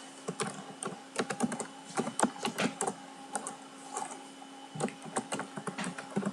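Rapid, irregular keystrokes on a computer keyboard while programming, clattering close and steady in clustered bursts with brief pauses, no voice over them.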